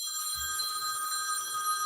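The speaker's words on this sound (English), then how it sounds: "so I hear a phone ringing somewhere" A telephone bell rings steadily in the background of a conference call, a bright sustained electronic trill with a brief low thump near the start.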